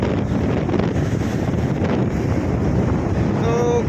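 Strong wind roars steadily into the microphone, battering a damaged gazebo. The rumbling gusts continue without a break for the whole stretch, with a faint high tone near the end.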